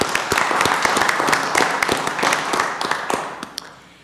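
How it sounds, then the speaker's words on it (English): Applause at a city council meeting honoring custodial workers: a room of people clapping steadily for about four seconds, moderately loud and dense, tapering off at the end with no talk over it. "Let's have a round of applause for these."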